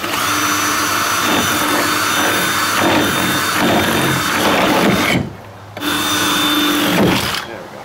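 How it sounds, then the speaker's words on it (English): A power drill whines and grinds through metal rivets on a 2000 Karavan snowmobile trailer in bursts, pausing briefly before starting up again. "let me get the drill bit and we'll start drilling out those rivets."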